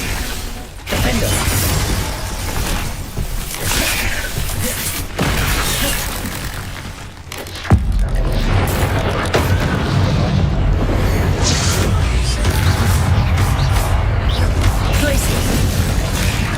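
Bombarda and Confringo spells blast in Hogwarts Legacy, loud booming explosions and crashing debris in a dense, continuous roar, with one sharp burst standing out midway.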